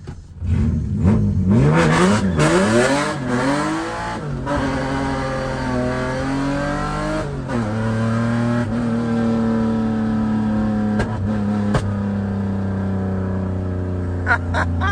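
A BMW E36 M3 with a six-speed gearbox accelerates hard, its engine note climbing loud and close, dropping at each gear change and rising again through the gears without a break.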